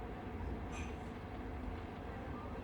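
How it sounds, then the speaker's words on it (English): A night train's wheels roll over the rails as it crosses a bridge, giving a steady, dense low rumble with a faint brief squeal, continuous and close. "The train crosses a bridge."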